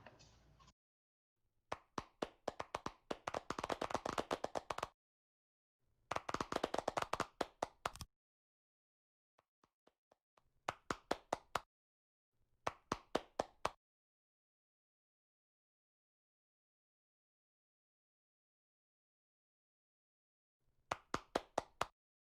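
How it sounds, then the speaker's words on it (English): Bursts of hand clapping from an online conference audience at a Laval Virtual sports event, coming in several short, uneven volleys separated by silence, with a final brief spatter at the end. "Now clap."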